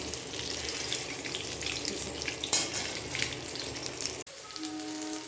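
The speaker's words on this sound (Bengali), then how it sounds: "আর ডিমটা আমরা কিন্তু খুব বেশি ভাজবো না, একটু হালকা ব্রাউন কালার চলে আসলে আমরা ডিমটা নামিয়ে রাখবো।" Eggs fry lightly in oil, making a soft, even crackling sizzle close by, briefly interrupted by a clatter before a faint steady hum.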